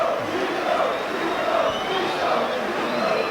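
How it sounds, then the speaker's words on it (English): A large rugby league crowd at a Leeds versus Castleford match roars and jeers as one, a loud, sustained wash of voices that swells and holds for several seconds. "you'll hear what the crowd think about that below me"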